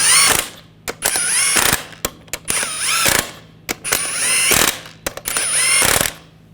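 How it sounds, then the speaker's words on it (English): A ratcheting hand tool snugs down lug nuts on the wheel of a 2014-2018 GMC Sierra pickup, giving repeated bursts of rapid clicking separated by short gaps, close and loud. "Get the lug nuts started. And snug these down."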